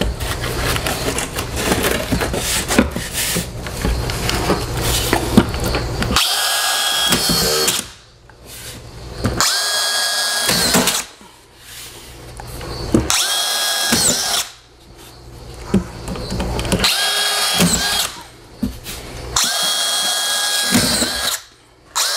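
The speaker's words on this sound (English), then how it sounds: "Now, it comes with some screws, but I have a screw gun, and well, it's just faster." A screw gun drives screws into sheetrock while patching a stairway wall, giving repeated loud, close whirring bursts of a few seconds each, separated by short pauses.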